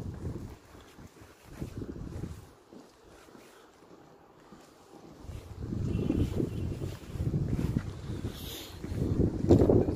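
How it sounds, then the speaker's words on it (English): Strong outdoor wind gusts buffet the microphone at a hilltop castle, Schloss Drachenburg, roaring close and loud, dipping briefly before building to heavy, sustained blasts. "Oof, it's windy out here."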